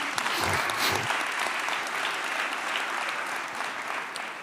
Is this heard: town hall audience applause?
yes